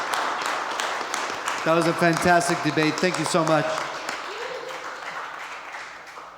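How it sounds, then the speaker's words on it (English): An audience applauds after a debate, a loud, dense wash of clapping that swells and then tapers off while a speaker talks over it. "Everyone, please give a round of applause to our debaters."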